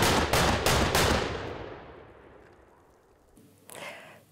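Böllerschützen fire ceremonial salute guns during practice in Burgberg, Allgäu: four rapid loud blasts in quick succession, followed by a long rolling echo that fades away, then a fainter distant report.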